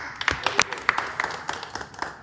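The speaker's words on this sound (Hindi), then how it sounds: "जानदार ताली अपने लिए बजाया जाए" A seminar audience applauds: a short spell of scattered hand claps with a faint murmur underneath, uneven and moderately close, tapering off after two seconds.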